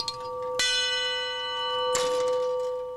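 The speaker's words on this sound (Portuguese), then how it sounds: "Muitos dos primeiros relógios mecânicos não tinham mostradores e indicavam o tempo tocando sinos." Bells struck by an early mechanical clock ring out in two clear metallic strikes, each leaving a long sustained ringing tone that hangs between hits.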